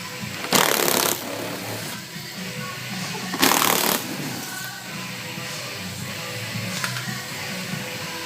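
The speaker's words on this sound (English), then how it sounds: "We'll go ahead and start getting all those loose." 8mm bumper cover bolts on a 2013-2016 Dodge Dart loosened with a power tool, two loud close bursts of whirring ratchet a few seconds apart and a shorter third one, over a steady garage background.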